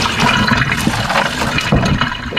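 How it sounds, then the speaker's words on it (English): Hot potato cooking water pouring out of a pot into a sink, a loud, close, continuous gushing splash with some gurgling, lasting the whole moment. "Just going to pour some of that water out here"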